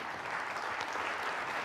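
An audience at a museum event applauds steadily, a dense, even wash of clapping from many hands that fills the whole moment without voices.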